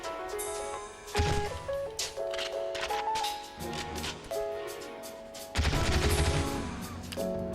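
Video game gunfire on a PS2 shooter, rapid loud bursts of shots and crashing impacts over game music, dense and continuous with a few heavier blasts.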